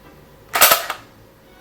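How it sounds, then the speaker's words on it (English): A PlayStation 2 light gun's kickback fires with a sharp close snap followed by a second quick click, a brief double crack alone in a quiet room. "Like I just pulled the trigger twice and it clicked 3 times."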